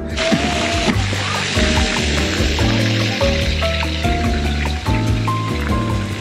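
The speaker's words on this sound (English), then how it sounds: "right here next to the pool and the splash pad you can hear in the background" Water splashes and gushes continuously at a resort pool splash pad, loud and busy, with rhythmic spraying pulses and faint background voices mixed in.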